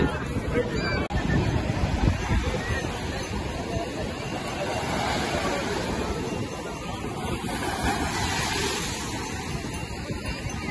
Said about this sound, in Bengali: রাতের সমুদ্র।